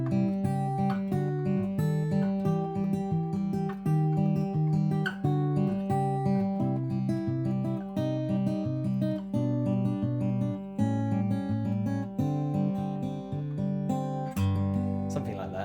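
Acoustic guitar fingerpicking a beginner chord progression, with steady, evenly plucked notes ringing over bass strings, moderately quiet, close and alone.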